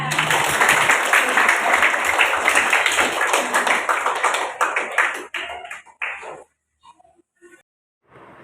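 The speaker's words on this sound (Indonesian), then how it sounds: "Tepuk tangan semuanya." Schoolchildren clap together at an Indonesian primary school, a dense loud burst of many hands lasting about five seconds before thinning into a few scattered claps and falling quiet.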